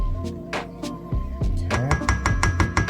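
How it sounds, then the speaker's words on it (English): Pancake batter ingredients being stirred together by hand in a bowl for a from-scratch recipe, with irregular clinks and knocks of utensil against the bowl, close and fairly loud. "we're going to kind of stir all the ingredients in together"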